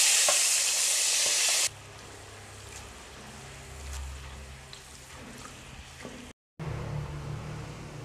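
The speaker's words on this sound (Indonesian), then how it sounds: "Goreng kacang, kecilkan apinya dulu." Peanuts frying in a pan over a flame turned low, with a loud sizzle at first that drops to a softer, steady crackle and bubbling, briefly cut out before resuming.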